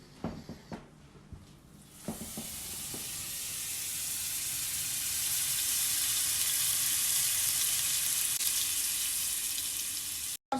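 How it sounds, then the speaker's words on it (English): Butter melting in a hot pan for shrimp alfredo, beginning with a few sharp clicks and taps before settling into a steady, loud, bright sizzle that builds and holds alone for several seconds. "So now I'm going to melt my butter"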